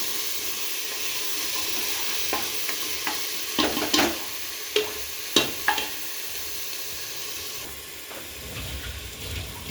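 Onions and green chillies frying in a pan for pav bhaji, a steady close sizzle with scattered scraping stirs and clicks through the middle.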